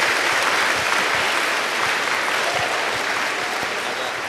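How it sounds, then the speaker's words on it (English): An audience at a youth coding event gives a long, loud round of applause, dense continuous clapping that holds steady throughout. "let's have a massive round of applause for them and for everyone"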